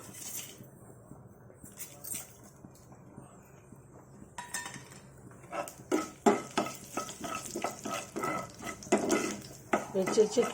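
Mustard seeds crackle and pop in hot oil in a pan while cooking an amaranth leaf curry. The spluttering starts quietly, then turns to dense, sharp popping close by with light utensil clinks, and no voices.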